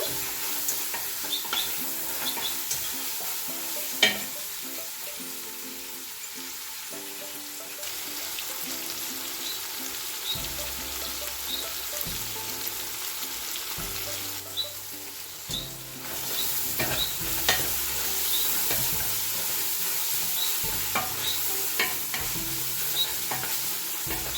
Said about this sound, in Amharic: እንዳያር ሽንኩርቱ ቶሎ ቶሎ እናማስለዋለን